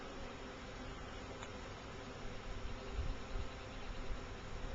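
A swarm of bees buzzes as a faint, continuous drone outdoors, growing a little louder and busier toward the end, with no talking.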